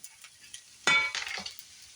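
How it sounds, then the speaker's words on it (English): Soy sauce hits a hot pan of vegetarian fried rice with a sudden sizzling hiss, followed by a few stirring scrapes and light clinks as the sizzle settles. "So now we'll add a little bit of our soy sauce."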